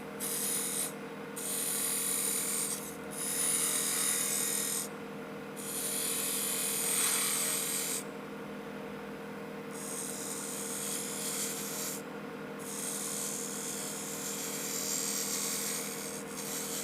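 A woodturning tool cuts a lanyard cove into a spinning wooden duck call on a lathe, a steady high whine and scraping hiss under a constant motor hum, coming in repeated bursts with short pauses between cuts.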